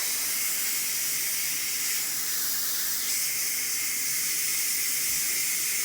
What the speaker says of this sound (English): Right now I'm draining the steam.